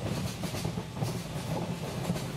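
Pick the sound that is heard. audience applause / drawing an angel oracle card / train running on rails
train running on rails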